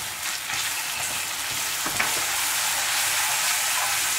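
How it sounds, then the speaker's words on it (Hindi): Tomato and cashew gravy for lauki kofta sizzles steadily in a pan while being sautéed, a dense close hiss with a soft stir near the middle; no voices. "ग्रेवी बहुत अच्छे से भून चुकी है, थोड़ा सा और भून लेते हैं।"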